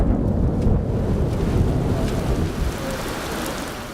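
Thunderstorm at Kennedy Space Center before the final space shuttle launch, steady heavy rain hiss and wind buffeting the microphone with low rumbling throughout, no voices.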